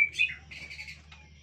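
A white-rumped shama (murai batu) gives a few short, bright chirps and call notes in quick bursts, fairly clear against a quiet background.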